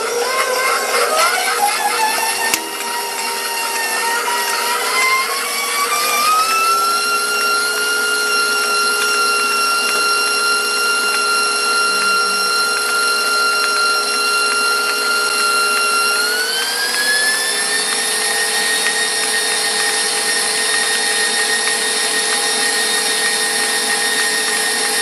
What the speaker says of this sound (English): the cream cheese goes in and we want to whip it up so it gets a little bit light and it gets soft